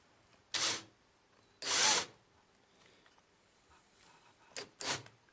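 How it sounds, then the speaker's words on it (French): An electric drill bores a bit into a wooden board in three short bursts, two longer loud whirs and then a quick double spurt near the end, with quiet workshop pauses between them. "j'ai monté la mèche sur une perceuse parce que sur ma visseuse elle n'est pas assez puissante"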